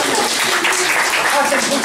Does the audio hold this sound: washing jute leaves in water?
no